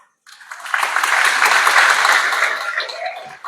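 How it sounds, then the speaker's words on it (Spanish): Audience applause at a student oratory showcase for Ecuador's National Culture Day, organised by the Pasaje municipality; a sustained, dense burst of clapping rising quickly and holding steady for a few seconds before tapering slightly. "Aplauso."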